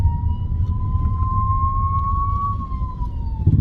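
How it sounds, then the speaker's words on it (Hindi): An ambulance siren wails steadily in a long rising and falling tone over heavy low road rumble in Goa, close by and loud throughout. "लेकिन एक सेकंड, एम्बुलेंस है पीछे।"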